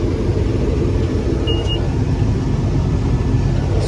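A Kejs combine harvester cuts soybeans in a field, a loud continuous low rumble of engine and machinery with no pauses, heard close up.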